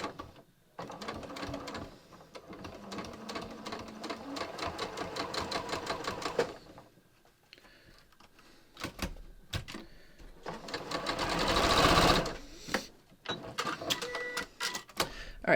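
Sewing machine stitching a seam straight over a Taylor Seville Magic Clip, a quiet rapid mechanical chatter in bursts separated by pauses, with a faster, louder run toward the end.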